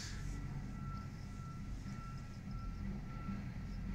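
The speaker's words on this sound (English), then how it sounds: "His thing beeps when it goes forward." A heavy vehicle's backup alarm sounds a steady, repeating high beep at a moderate distance over a constant low engine rumble.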